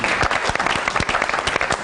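Studio audience applause on a Georgian TV talk show, a dense steady clatter of many hands clapping at once, loud and continuous throughout.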